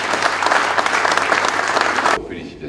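Crowd applauding at a Téléthon fundraising event in Haute-Vienne, a loud, dense, sustained burst of clapping from many hands that cuts off suddenly, leaving faint room tone.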